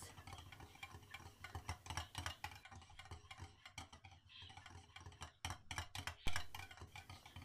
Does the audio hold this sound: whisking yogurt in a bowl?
yes